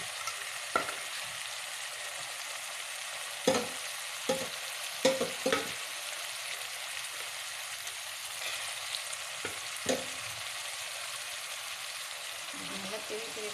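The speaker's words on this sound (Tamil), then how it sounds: "இப்போது நான் மேரினேட் பண்ணி வச்ச சிக்கனை இதில் ஆட் பண்ணுறேன்" Marinated chicken sizzles in a pan of sautéed tomatoes, a soft steady frying hiss broken by sharp spoon clacks and scrapes as it is stirred.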